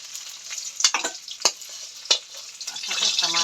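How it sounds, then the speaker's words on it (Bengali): Food frying in a pan, a close hiss and crackle with several sharp clicks of stirring, swelling into a denser sizzle at the end. "ভালো করে ভেজে নিচ্ছি।"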